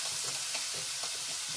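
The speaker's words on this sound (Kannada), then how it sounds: "ಈರುಳ್ಳಿ ಟೊಮೆಟೊ ಕ್ಯಾಪ್ಸಿಕಮ್ ಎಲ್ಲ ಒಗ್ಗರಣೆ ಬೇಯಿಸ್ಕೊಂಡು" An onion, tomato and capsicum tempering fries in a pan for bisi bele bath, giving a continuous soft sizzle close by with faint stirring.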